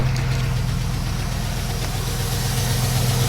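A used replacement engine in an old truck idles steadily just after starting, a loud, even low throb with a regular pulsing rhythm that runs unbroken throughout, with no talking.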